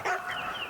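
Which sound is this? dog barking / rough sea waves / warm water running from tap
dog barking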